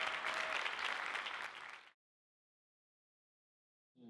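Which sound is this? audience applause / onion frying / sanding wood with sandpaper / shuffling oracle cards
audience applause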